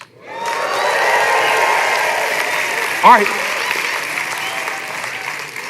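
A crowd claps and cheers steadily throughout, with a brief spoken exclamation breaking through near the middle.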